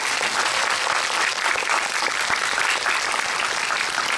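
Applause fills a Megabox cinema during a Q&A for the film Hunt, a sustained, even roar of many hands clapping at once, full and unbroken from start to finish.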